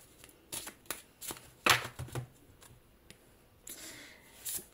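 A deck of oracle cards is shuffled close by, giving a run of soft papery riffles and flicks with a brief louder burst, and no one speaks.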